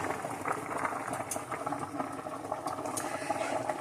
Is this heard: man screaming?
no